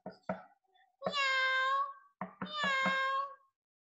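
A person's voice imitates a cat meowing twice, two drawn-out nasal mews close and clear, after a few short spoken syllables.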